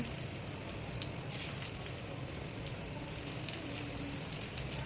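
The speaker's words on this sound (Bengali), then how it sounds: "সেই প্যানে একটু তেল দিয়ে আমি বেগুনটা ভেজে নিচ্ছি" Eggplant frying in oil in a pan, a faint, steady crackling sizzle with small spitting pops throughout, no voices.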